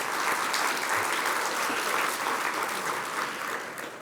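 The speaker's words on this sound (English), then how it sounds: "let's give him a round of applause" An audience at a West Texas legislative summit gives a round of applause, a dense steady clapping from a large crowd that holds evenly and fades slightly at the end.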